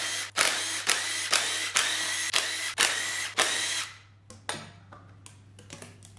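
A power tool, likely an impact or ratchet driver, works on the inlet manifold of a Saab 900 Classic engine in a series of loud, close, rapid bursts, then short intermittent clicks and taps as it winds down.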